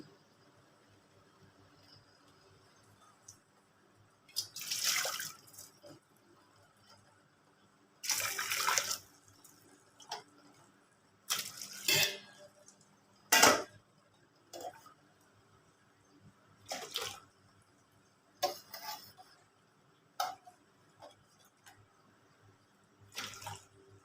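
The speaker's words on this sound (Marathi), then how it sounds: "तर मी हे गिलासानं पाणी काढणार आहे" Water being scooped out with a glass and poured in a series of splashy sloshes, about eight close bursts separated by quiet pauses, with no talking.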